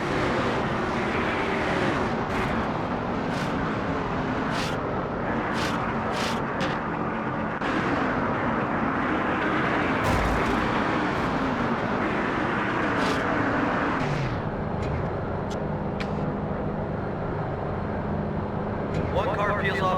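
NASCAR stock cars from the NASCAR Thunder 2004 game circle under caution at Las Vegas, a dense steady roar of engines with passing cars and sharp clicks, heard beneath continuous commentary.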